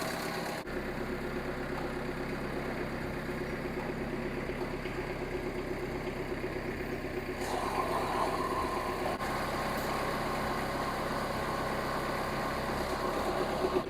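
A mini skid steer engine runs steadily with a low, vibrating drone, its sound thickening partway through as the machine moves ahead. It stays continuous and close, with no talk.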